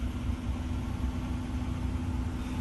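A 2023 Nissan Frontier pickup engine idling steadily, a low continuous rumble with a constant hum, close and even throughout with no revving.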